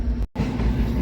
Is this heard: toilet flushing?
no